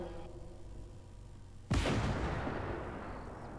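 A tank cannon fires in the video game Armored Warfare, a single sudden loud blast after a quiet engine hum that rolls into a long, fading rumble.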